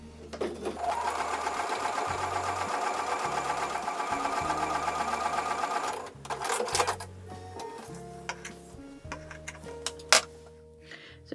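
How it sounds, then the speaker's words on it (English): A sewing machine stitches a quilt block in a steady, fast mechanical whir with rhythmic ticking for about six seconds, then stops, followed by intermittent clicks and brief bursts of the needle running. "we're going to go back over to the sewing machine and we're going to sew a quarter inch away"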